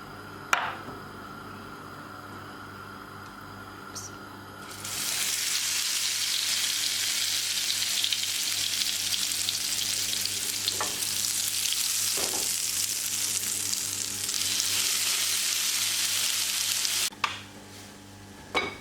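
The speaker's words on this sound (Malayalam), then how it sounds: "നമ്മുടെ ബ്രെഡ് ഈ ഒരു കൂട്ടിയിൽ മുക്കിയതിന് ശേഷം പാനിലേക്ക് വെച്ച് കൊടുക്കാം." Bread slices dipped in batter frying in ghee in a pan, a quiet hum giving way to a loud, steady sizzle when the bread goes in, with a few sharp clinks of utensils against the pan.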